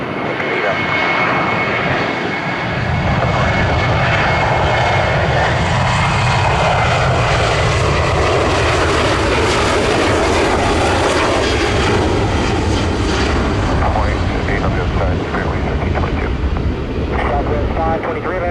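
A jet airliner takes off at Orlando International Airport, its engine roar loud and sustained and building throughout, with tower radio chatter running underneath.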